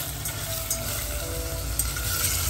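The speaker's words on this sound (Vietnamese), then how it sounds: "cái này mình xào tôm để lát mình nấu" Shrimp stir-frying in a pan for moringa leaf soup, a steady close sizzle and crackle with faint stirring scrapes, continuous throughout with no talk.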